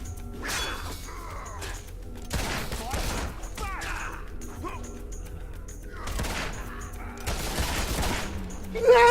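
Fable II video game gunfire cracks out in several loud, close bursts with whooshes and clatter between them, with no speech over it.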